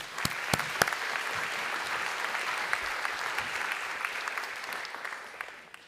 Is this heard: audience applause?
yes